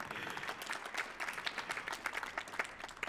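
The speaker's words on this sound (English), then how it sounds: "I appreciate the applause" A short burst of audience applause at the Millennium Stage following a beatbox and breath art performance: dense, steady clapping from a crowd, moderately loud, lasting only a few seconds.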